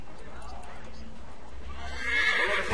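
A horse neighs in the video game Assassin's Creed III, its whinny rising near the end over a busy game soundscape with faint hoof clatter, while someone talks.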